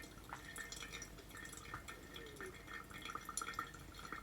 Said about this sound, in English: Then I'm just going to let the water seep through